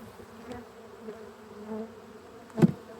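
Honey bees hum steadily around an open hive during an inspection, a soft, continuous buzz with a brief louder thump near the end.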